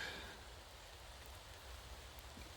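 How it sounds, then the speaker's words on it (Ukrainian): Light rain beginning to fall in a dry forest clearing, a soft steady patter of drops on leaves and ground, faint and even throughout with no voices. "Дощик пішов."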